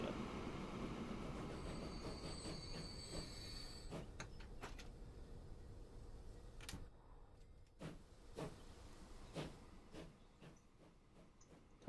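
A train in the Transport Fever 2 game runs along its track, a quiet continuous rolling rumble with periodic sharp clicks and clacks from wheels over rail joints, heard alone without talk.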